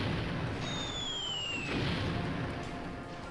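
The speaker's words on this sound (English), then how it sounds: "Time to do some bombing." Bombs go off in the video game MDK, heard as a steady dense rumble with a soft rising swell midway and a high whistling tone sliding down over it, all at low level.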